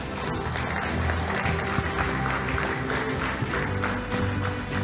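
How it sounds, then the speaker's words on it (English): Audience applause at an engineering innovation prize presentation, a steady wash of clapping that carries through the whole stretch at moderate loudness. "Let's give them a big round of applause."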